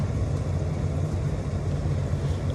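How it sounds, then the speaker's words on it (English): A tow truck hauls a car along a street, its steady low engine rumble and road noise droning continuously at moderate distance, with no voices present. "Oh no, that tow truck looked like it's got in a car accident."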